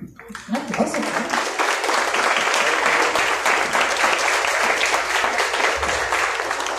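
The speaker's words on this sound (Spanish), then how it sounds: "Un aplauso." Loud, dense audience applause at a panel discussion in Colima, rising quickly after a brief moment and continuing steadily, with a little speech at the start.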